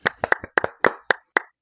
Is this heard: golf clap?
yes